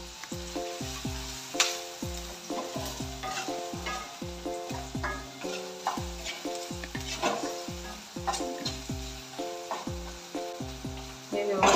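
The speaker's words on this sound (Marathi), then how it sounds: "कांदा व्यवस्थित फ्राय होण्यासाठी आपल्याला त्याच्यामध्ये थोडंसं मीठ टाकायचं।" Onion sizzles in a pan for Rajasthani-style poha while being stirred, a steady close frying hiss with repeated scraping strokes, heard alongside prominent background music.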